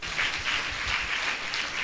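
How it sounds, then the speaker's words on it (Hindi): An audience claps together in a steady, sustained round at a Christian qawwali and shayari gathering, heard at moderate volume without talk over it. "ताली बजाइए उस प्रभु के लिए।"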